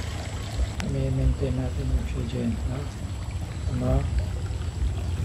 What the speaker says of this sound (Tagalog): Gumagalaw yung tubig kahit papaano.